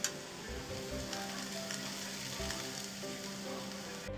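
Chicken sizzling in a pan on a gas stove, a steady close frying hiss with occasional louder crackles and spatters throughout, no talking.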